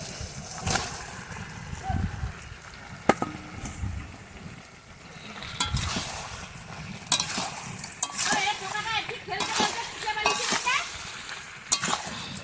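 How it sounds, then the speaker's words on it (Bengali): Fish being stir-fried in a pan of spiced oil, a steady sizzle and frying crackle broken by repeated scraping and stirring strokes, with a voice talking over the cooking at times. "এবারে মাছটাকে দিয়ে দেবো, দিয়ে ভালো করে কষবো।"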